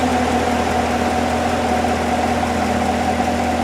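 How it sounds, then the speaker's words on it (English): A 2015 Corvette Stingray engine idles steadily at close range, a constant low rumble with an even hum and no voices. "We can tell by the way it's idling."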